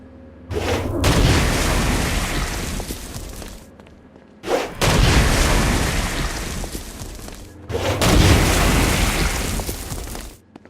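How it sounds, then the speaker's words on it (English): Stone Blast explosions against flying demons in the 2015 video game Saints Row: Gat out of Hell: three loud, rumbling blasts, each sustaining a heavy roar for a few seconds before briefly dropping away. "Stone Blast is especially useful on flying demons like this one."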